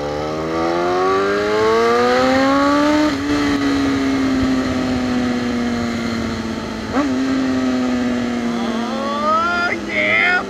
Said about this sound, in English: I am absolutely in love with this exhaust and header setup that I have on my bike